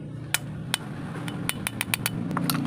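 A hammer strikes a thick metal bushing in a series of sharp, ringing metallic taps, about a dozen irregular hits over a low steady hum, some quick in succession.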